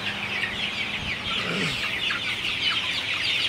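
Sonali hybrid chickens on a poultry farm cluck and murmur in a dense, steady chorus, with one louder call rising briefly from the flock.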